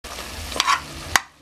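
Finely chopped tomato pieces hit a hot pan for a spicy sheep head gravy curry, giving a short burst of sizzle with a couple of spatula knocks, close and brief, with no talking.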